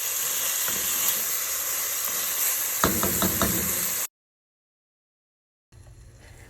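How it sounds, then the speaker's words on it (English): Onions sizzle in a Dutch oven, a steady bright frying hiss with a few sharp knocks of a utensil against the pot. The sound cuts off abruptly into silence, then faint sizzling returns. "You're going to cook those onions until they're translucent, about 5 minutes."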